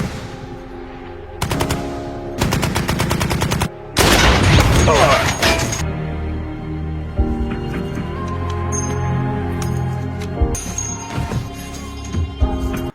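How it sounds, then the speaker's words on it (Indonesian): Bursts of gunfire from a World War II war film: rapid machine-gun volleys and a heavy fusillade, loud and close, alternating with quieter stretches of rumbling battle ambience and scattered sharp shots. "satu sniper musuh pun terus mengendap di antara lumpur basah dan berhasil mengenai Don tepat di bagian dada atasnya"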